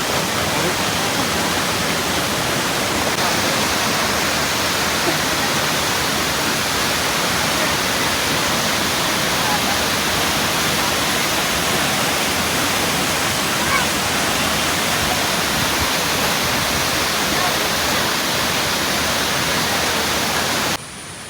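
Pampanal waterfall in Idukki roars as a loud, dense, unbroken rush of falling water, steady and close for about twenty seconds before dropping slightly at the very end.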